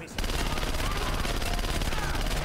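Rapid, continuous gunfire in Splinter Cell: Conviction, a dense stream of shots rattling loudly for a couple of seconds after a brief quiet start.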